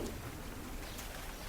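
Steady rain falls outdoors over a garden where potatoes grow in pots, a dense, even hiss of drops spread across the whole short stretch with no voices.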